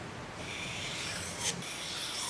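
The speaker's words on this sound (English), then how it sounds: "Sharpen all the way along the bevel in one sweep." Hook knife sharpened on a stone: a steady, close rasping rub across the blade in one continuous sweep, with a brief brighter scrape near the end.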